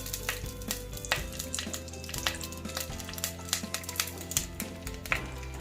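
Curry leaves sizzle in a clay pot for goat intestine curry, a moderate frying hiss broken by repeated sharp taps and clicks of a utensil against the pot, heard close with no speech.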